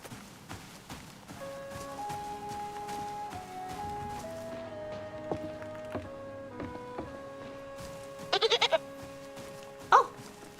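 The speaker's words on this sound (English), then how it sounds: "You make goat noises." A baby goat bleats in a video game about a witch living in a hut in the woods, several short, close bleats near the end over a steady layer of game music.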